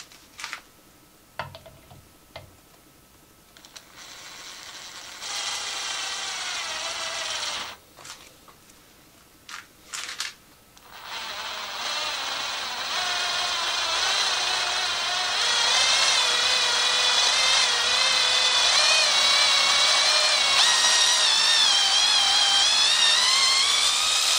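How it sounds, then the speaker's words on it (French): A hand drill drives a thread tap, whirring in short bursts at first and then running steadily for a long stretch, close and fairly quiet. "Tu peux directement venir fixer ton outil sur une perceuse à main."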